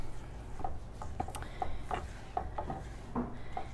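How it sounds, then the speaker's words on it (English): A utensil stirs melting butter in an Emile Henry burgundy clay pan on a stovetop, making soft scrapes and about eight light, evenly spaced taps against the pan. "So I'm just going to stir this a little bit."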